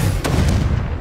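Fire spell Incendio cast in the video game Hogwarts Legacy, a short heavy booming burst with two quick whooshing cracks over a loud low rumble.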